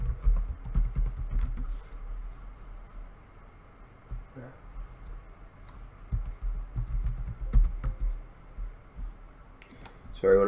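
Soft, irregular computer keyboard typing in short clusters of clicks, close but faint, with a voice speaking intermittently over the keystrokes.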